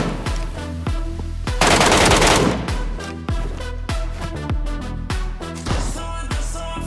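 Gunfire in a PUBG-style battle royale video game: loud, rapid automatic bursts and single cracks repeat close by throughout, with brief gaps between volleys.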